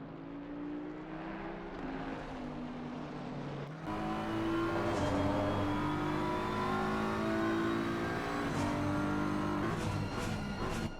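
A BMW race car engine drones at Bathurst in a console racing game, a sustained tonal whine whose pitch rises and falls through gear changes, loud and steady with no voices.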